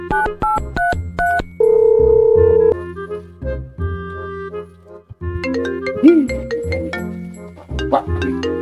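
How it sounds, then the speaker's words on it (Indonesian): A telephone sounds a series of bright electronic beeps and melodic ringtone notes, with a sustained tone partway through, loud and close, without any talking. "Orang telepon si Aa."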